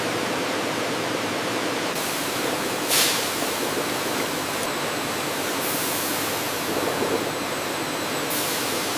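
Waterfall washing system rinsing lychee arils in a factory, a steady broadband rush of falling water running continuously at an even level, with a few brief louder splashes.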